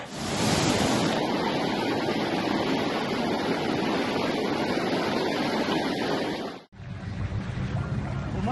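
Floodwater after heavy rain in Karachi rushes along a street in a loud, continuous roaring wash, close and unbroken, before a sudden cut to a somewhat quieter, steady flow.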